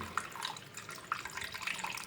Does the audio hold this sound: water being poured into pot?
yes